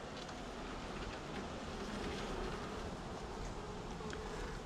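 Honeybees buzzing during an inspection of an Apimaye hive split, a dense continuous swarm hum close by and steady throughout, with no talk.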